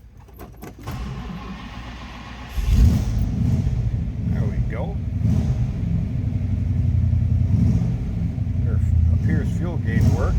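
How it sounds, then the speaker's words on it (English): A 1962 Ford Thunderbird Landau engine cranks and catches, then settles into a loud, rough rumble with rises in revs, a few clicks beforehand and someone speaking over it. "Let's start this one up."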